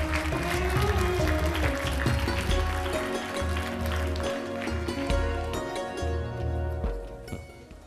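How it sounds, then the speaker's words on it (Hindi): A studio audience on a Pakistani morning show gives a steady roar of applause, mixed with loud music and continuing across the whole stretch. "भरपूर तालियों और खड़े होकर अदब के साथ रुख्सत कीजिए"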